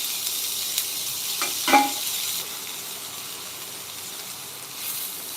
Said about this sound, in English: and finally sauteing it